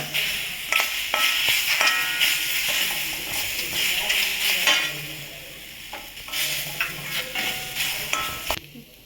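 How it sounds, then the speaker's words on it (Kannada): Semolina and mango being stir-roasted in a pan, with bright sizzling and repeated scraping strokes of a spoon close up, the frying hiss swelling and fading between stirs. "ಈಗ ಇದಕ್ಕೆ ಮಾವಿನ ಹಣ್ಣು ಹಾಕ್ಕೊಂಡು ಒಂದು ನಿಮಿಷದವರೆಗೂ ಹುರ್ಕೊಳ್ಳೋಣ"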